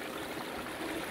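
Stream water flowing steadily at Ein Fasayil spring, a continuous close broadband rush and trickle with no pauses and no voices.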